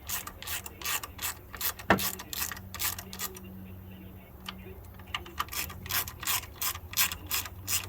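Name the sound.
ratchet torquing bolts on a 2012 Ford Fusion engine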